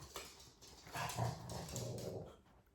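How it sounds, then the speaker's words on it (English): A dog gives a short, low growling bark and whimper, muffled and fairly faint, in one brief burst with no talk. "that's what this barking's all about"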